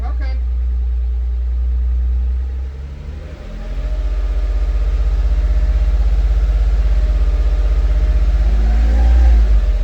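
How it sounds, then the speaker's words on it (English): A rebuilt lift engine rumbles loudly nearby, dipping briefly, then revving up to a steady, higher drone that holds for several seconds. "I'm gonna rev it to about 2,"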